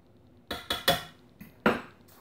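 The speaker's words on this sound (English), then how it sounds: "And I'm going to mix that together." A fork clinks and scrapes against a bowl while muffin batter is mixed, a handful of sharp, close taps in an irregular rhythm with quiet gaps between.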